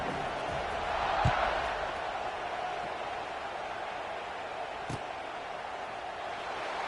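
A large American football stadium crowd roars in a steady, distant wash of cheering that swells slightly early on, with a few faint thuds.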